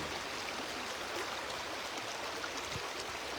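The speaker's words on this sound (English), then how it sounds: "as you hear the sound of this beautiful river, just surrender to the sound of the river in you" A river flows in a steady, broadband rush of water, continuous and fairly even, with no voices over it.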